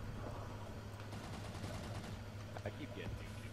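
Shotgun and gunfire blasts from Call of Duty Advanced Warfare multiplayer, a dense, continuous barrage of game gun sounds with sharp reports layered over a constant background hum.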